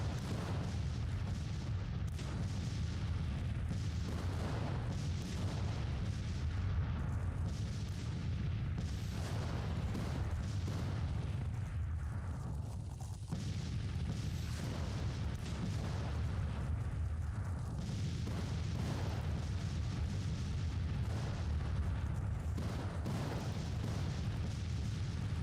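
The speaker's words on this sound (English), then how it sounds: "A lot of artillery fire all over here. You can see an enemy bombardment" Distant artillery bombardment rumbles on through a Civil War battle in the Grand Tactician strategy game, a steady low roar with muffled booms and no voices.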